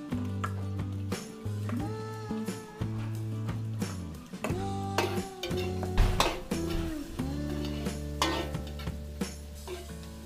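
Onions added to garlic in a pan sizzle and are stirred, with repeated clinks and scrapes of a utensil against the pan in an irregular rhythm, close and fairly loud, over a low steady hum.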